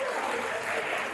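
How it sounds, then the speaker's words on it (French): Audience at a comedy show in Pointe-Noire breaking into dense, sustained applause, a steady wash of many hands clapping at once with no break. "Non, mais applaudissez pour les étudiants."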